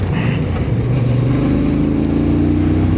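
A Voge R625 motorcycle engine runs at low revs in fourth gear at about 50, with an uneven, slightly sputtering drone, loud and close, with no talking.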